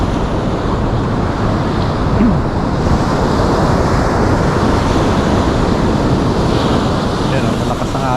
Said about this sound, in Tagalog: Yan o, malakas ang alon.